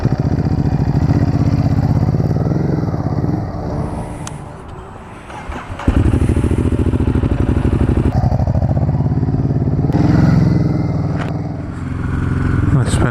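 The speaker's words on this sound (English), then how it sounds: "This is the Ducati Hypermotard. We're gonna take this out for a spin today" A Ducati Hypermotard motorcycle engine runs loud and close, with a steady throb that dips briefly and then surges back. A voice talks over it.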